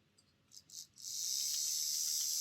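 A couple of faint chirps, then the motor of a Hornby Class 25/24 diesel model locomotive with two motor bogies kicks in with a steady, high-pitched whirring buzz that continues evenly to the end.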